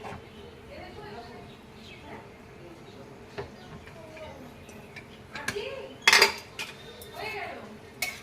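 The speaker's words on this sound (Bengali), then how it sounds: "আমার স্টিমটা বসে গেছে প্রেশার কুকারে এবার এটাকে খুলে দিই" Metallic clanks and rattles of a pressure cooker lid being handled and opened after the steam has settled, cooking mutton, with a person talking softly in the background.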